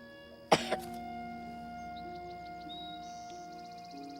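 A sharp, forceful cough, followed by a smaller second hack, then a long quiet stretch with faint high tones and light ticking.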